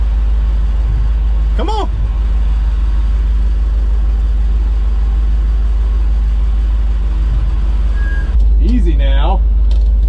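A Chevrolet Squarebody K30 truck that sat for years in a Texas field runs with a constant low engine rumble, while people talk briefly over it near the start and end.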